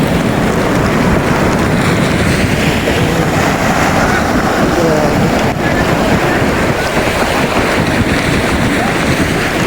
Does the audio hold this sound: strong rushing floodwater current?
yes